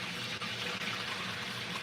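Tap water pouring steadily into a pot being filled for a small batch of pasta in a home kitchen, a continuous close, full splashing rush with no pauses and no talking.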